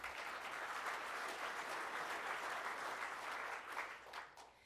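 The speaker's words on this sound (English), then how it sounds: "Let's give them a hand of applause." Audience applause at a Rotary Club of Tulsa meeting, steady dense clapping from a sizeable crowd in a meeting room, holding level for several seconds before tapering off at the end.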